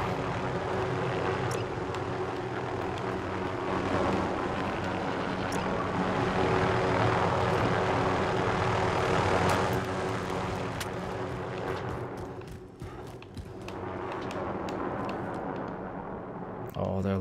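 An enemy personal radar aircraft in Call of Duty: Modern Warfare Plunder flies overhead as a continuous loud, broad engine roar that swells and holds, with voices talking over it.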